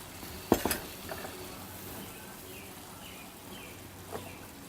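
Sausages simmer in a sauce in a pan with a faint bubbling sizzle, broken by a sharp clatter of metal utensils against the pan and a few soft scraping stirs.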